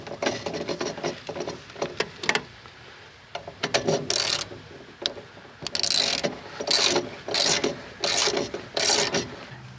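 Torque wrench ratcheting down bolts on a new breaker box in a Victorian house, irregular bursts of clicking pawl sounds, closely miked, growing into a series of sharp repeated ratchet strokes.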